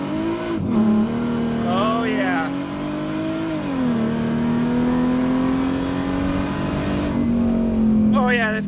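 A Mercedes SLK32 AMG supercharged M112K with upgraded intake manifolds accelerates hard, its engine droning and climbing through gears with a shift dip, loud from inside the car while people talk over it.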